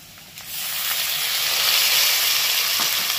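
Chopped tomato and green chillies hit hot oil with potatoes and lentils, setting off a bright sizzle that jumps up after a quieter start and then holds steady and close.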